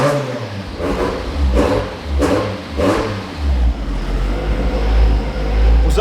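A cold Nissan S20 car engine revs hard in repeated bursts, rising and falling several times, loud and close, with a rough low rumble between pulls.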